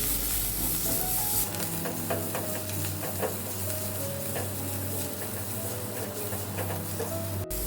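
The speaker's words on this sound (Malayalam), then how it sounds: "1 ടേബിൾ സ്പൂൺ കറിവേപ്പില, 1 ടീസ്പൂൺ മല്ലിയില. ഇത് നമുക്കൊന്ന് വാട്ടിയെടുക്കാം." Chopped green chilies, curry leaves and coriander leaves sauté in hot oil in a pan, a steady close sizzle with occasional stirring scrapes and no talking.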